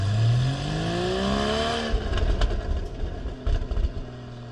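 A 2015 Porsche Boxster 981 with its roof down, its flat-six engine revving up through rising pitch in a strong pull, then shifting and settling into a rougher, lower drone as wind and road noise mix in.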